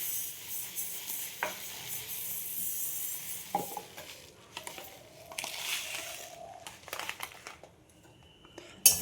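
Broken wheat dalia dry-roasting in a pan, a gritty rustling scrape as the grains are stirred and shuffled, with uneven bursts and a few clinks, close and moderately quiet.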